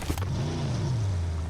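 A stuck vehicle's engine revs steadily, a loud low drone that rises slightly in pitch and holds for a moment, with no one speaking.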